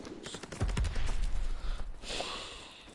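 Rapid machine gun fire in the video game Fortnite, a quick burst of close, sharp shots followed by a rushing hiss and scattered noise.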